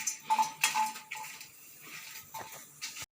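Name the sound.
dry roasting garlic, ginger and dried chillies in a pan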